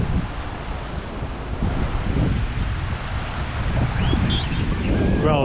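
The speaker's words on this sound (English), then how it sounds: "Well, it's also windy." Strong wind buffets the microphone at the seashore in Larnaca, with waves washing in on shallow cold water; a loud, continuous rumbling roar that swells and eases.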